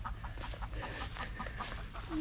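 Chickens barricaded in a smaller area than usual cluck softly in scattered bursts over a steady high insect-like hiss and low background rumble.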